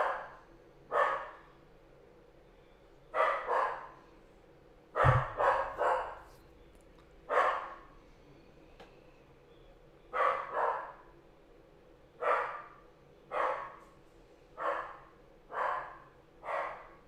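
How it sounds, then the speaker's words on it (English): A dog barks repeatedly in single and double bursts spaced a few seconds apart, moderately close, with quiet room background between barks and one sharp thump. "Dog's barking."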